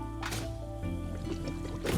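A water extractor in the video game Satisfactory pumps with a wet, sloshing, gurgling flow and soft mechanical hum, quiet and continuous with a few splashy bursts.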